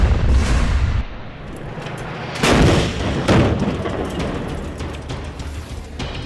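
A rocket and gunfire attack on Israeli soldiers in Ashkelon comes through as loud booming blasts and heavy reports layered over a dense, rumbling roar, with no speech.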